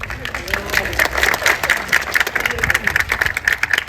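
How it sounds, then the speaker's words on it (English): A crowd at a park re-dedication ceremony applauds outdoors with steady, moderately loud clapping mixed with voices and background murmur. "You can applaud."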